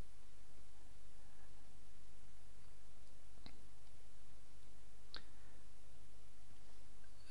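A computer mouse gives two faint, separate clicks a couple of seconds apart under a steady background hiss.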